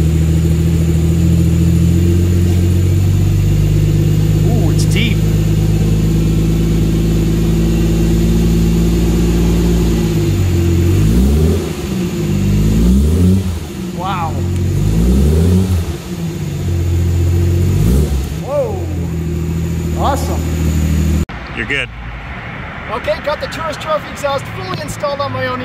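A Jaguar E-Type's engine with a Tourist Trophy exhaust idles loudly, then is blipped through a series of rising and falling revs, a deep burbling roar close by, before settling back to a rougher, lumpy idle.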